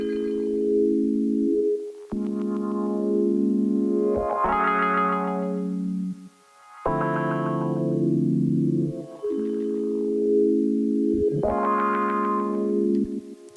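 Reversed audio samples in Ableton Live 8 swell up and cut off abruptly in repeating bursts, warped and effected tones with a brief gap midway, loud and alone.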